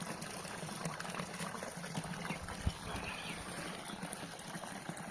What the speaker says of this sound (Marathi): तर अशा प्रकारे हा बंधारा आहे आमचा. हे एकदम असं फ्रेश असं पाणी.